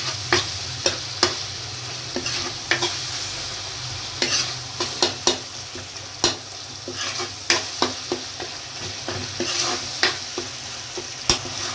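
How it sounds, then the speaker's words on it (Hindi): Chopped medium tomatoes fry with masala in oil for restaurant-style matar mushroom: a steady sizzle broken by a spoon clacking against the pan in irregular, sharp knocks throughout. "इनको भी साथ में मसाले के साथ भूनेंगे।"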